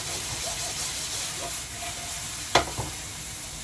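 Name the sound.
mushrooms frying in oil and butter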